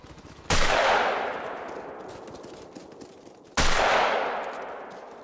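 Two loud gunshot bursts in the video game Call of the Wild, each a sharp broadband blast with a long decaying tail, about three seconds apart over a busy game background.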